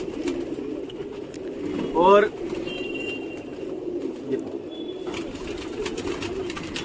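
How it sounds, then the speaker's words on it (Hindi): A pigeon gives a short rolling coo, close and clear, from a large Indian breed kept by a pigeon keeper, set against steady background hum while someone talks before and after it. "ऐसे ये कबूतर है हमारे"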